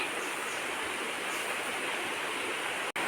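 A shallow river near a home runs low over its bed, giving a steady, unbroken rush of flowing water close by, with one brief drop near the end and no voices.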